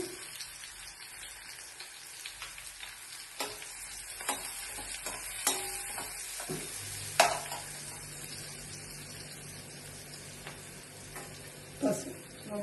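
Turmeric and curry leaves fry in a pan with a soft, steady sizzle and crackle, broken by scattered spoon clinks and scrapes; a few sharper taps stand out near the middle and end.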